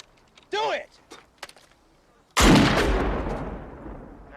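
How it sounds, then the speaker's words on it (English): A single loud musket-style gunshot from a period infantry drill on a field, a heavy boom with a long rolling decay, following a shouted command and scattered footsteps. "Discharge your weapon."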